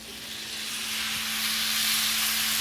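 Canned diced tomatoes with green chilies poured juice and all into a hot pan, giving a steady broad sizzle and hiss that swells slightly and keeps going, with a faint steady hum underneath.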